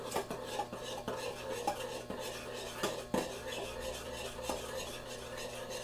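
A spoon stirs Cheese Whiz and jalapeno brine in a saucepan, making repeated soft scrapes and clinks against the pan at a steady pace, close up, with a low hum underneath and no talking.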